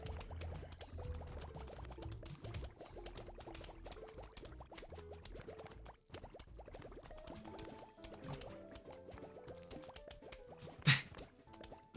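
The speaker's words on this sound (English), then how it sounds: "All the bubbling sounds, it sounds like a college dorm room" Liquid bubbling and gurgling steadily up close, with small drips and plops throughout and one brief louder knock near the end, no talking.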